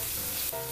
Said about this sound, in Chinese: 煎到有一边你觉得差不多的时候，就可以翻面